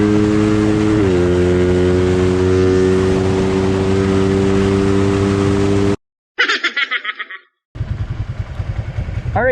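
A motorcycle pulls away as the throttle is gently opened, a steady close engine drone whose pitch steps up, then cuts out and returns in choppy revving bursts.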